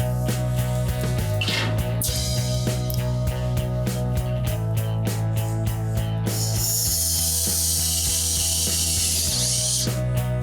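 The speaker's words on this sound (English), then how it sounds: "I'm gonna go through and start putting some set screws in place to hold the rest of the trunk floor in" Rapid, steady mechanical whirring and buzzing from a power driver setting screws to hold the trunk floor of a 1971 Super Bee, running continuously up close with a hissing burst partway through.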